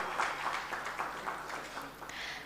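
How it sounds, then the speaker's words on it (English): A burst of applause from a conference audience, steady and fairly soft, with clapping sustained throughout the few seconds. "A huge round of applause"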